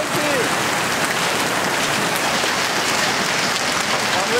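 Large hailstones pour down hard and continuously in a hail storm, a dense, loud, steady clatter with no pauses.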